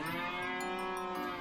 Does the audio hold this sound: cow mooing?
yes